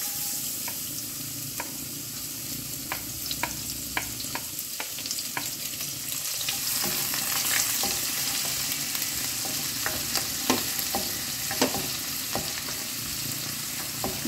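Chopped garlic frying in a pan for Japanese tofu, a steady close sizzle with scattered crackles and pops throughout, no voices.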